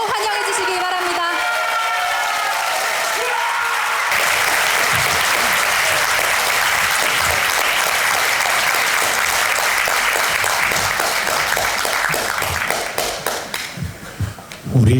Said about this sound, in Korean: 모두 일어서셔서 큰 박수로 환영해 주시기 바랍니다.